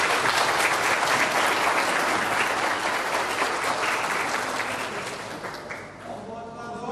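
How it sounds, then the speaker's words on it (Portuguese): Audience applauding at a student mock jury trial event, a loud, dense wash of many hands that holds steady, then thins and fades toward the end as a voice begins. "palmas para você"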